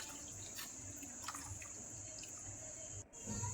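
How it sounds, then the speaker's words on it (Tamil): Steady tamarind water pours and splashes continuously into a pan, with a brief break near the end before the flow resumes louder. "இப்போது கரைச்சி வச்சுருக்கிற புளி தண்ணியையும் நம்ம ஆட் பண்ணிக்கலாம்."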